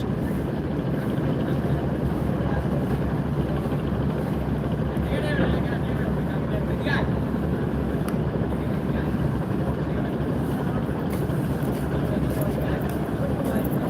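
A large passenger launch pulls away from a river ghat, its deep engine drone and churning water forming a steady low rumble throughout, with wind and faint voices in the background.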